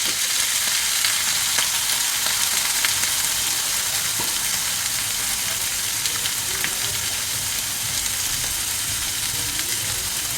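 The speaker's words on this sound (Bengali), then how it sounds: "এপাশে বিট, গাজর, ব্রোকলি সব এপাশে ভাজা বসিয়ে দিলাম" Beetroot, carrot and broccoli fry in a pan with a steady, close sizzle, broken by occasional light clicks and scrapes of stirring.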